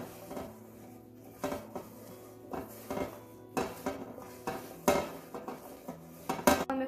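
Bread cubes tossed with olive oil in a bowl for allergy-friendly croutons: a utensil clinks and scrapes against the bowl in irregular, close knocks over a soft, continuous stirring rustle.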